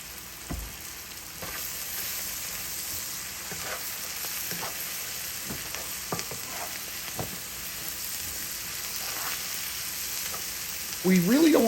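Vegetables softening in a pan for chicken spaghetti, a steady sizzle with occasional spatula scrapes and stirs, close-up and even throughout, with a brief clatter at the very end.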